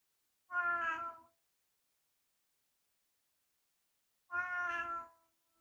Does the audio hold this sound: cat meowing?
yes